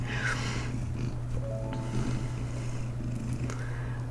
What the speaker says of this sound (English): now Dottie is in my lap purring